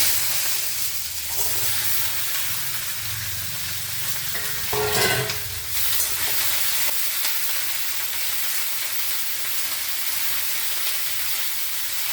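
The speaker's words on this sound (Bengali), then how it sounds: "এইবারে আমি টমেটোটা ছেড়ে" Tomatoes hit hot oil with red chilies already fried, a burst of hissing sizzle near the five-second mark over a steady background fry and stirring, close and untalked.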